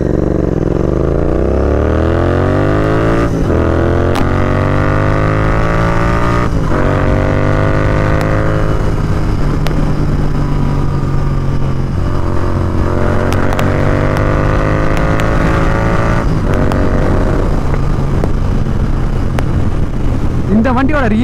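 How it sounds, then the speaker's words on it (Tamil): A Continental GT650 motorcycle fitted with a Red Rooster performance exhaust revs repeatedly up to its limiter, loud and close, each rising roar bouncing off the rev lock before dropping back to a throaty idle. "ஐடியல்ல செவன் தௌசண்ட் ஆர்பிஎம் லாக் ஆகுது இந்த வண்டியில்."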